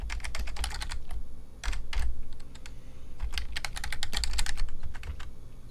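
Fingers type on a computer keyboard in quick bursts of close, crisp clicks with brief pauses, no talk over it.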